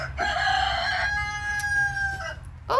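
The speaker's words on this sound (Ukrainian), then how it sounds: "півник" A rooster crows once, a long drawn-out call lasting over two seconds, loud and close, with a low rumbling background underneath.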